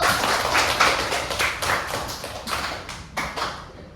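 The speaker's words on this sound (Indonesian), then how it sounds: "Bagus sekali, tepuk tangan dulu" Pupils in a classroom clap together in a burst of applause, a dense close patter of claps swelling and easing over a few seconds.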